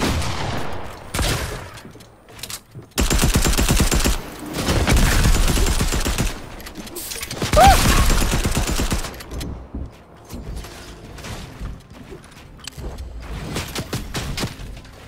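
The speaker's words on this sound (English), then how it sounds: "This guy's shooting at me." Fortnite gunfire, long sustained bursts of rapid automatic shots and heavy volleys rising and falling loudly, broken by brief pauses and softer scattered shots near the end, with no speech.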